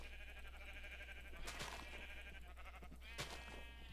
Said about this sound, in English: there's a bunch of sheep right here